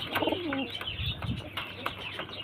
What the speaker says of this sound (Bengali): এই দেখুন, এটা মাদা পায়রা